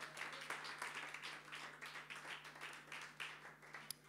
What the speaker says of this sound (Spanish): dando un fuerte aplauso al Señor